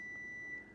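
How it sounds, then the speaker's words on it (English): A kitchen alarm, set while beef ribs were cooking, gives a thin, steady electronic beep that sounds faint and continuous for well under a second over low background noise. "That's the alarm that went off."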